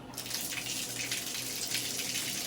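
Lukewarm tap water runs steadily from a faucet while trumpet parts, tuning slides and valve bottom caps, are being cleaned; a continuous close hiss of flowing water with no talk.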